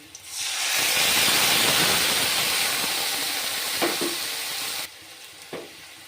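Poppy seed paste sizzles and spatters loudly in a hot pan with fried onions, the frying hiss easing after a few seconds, with a couple of soft utensil knocks.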